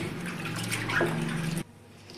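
Water sloshes and splashes in a container as potato slices are rinsed of starch, then the sound cuts off abruptly, leaving near quiet.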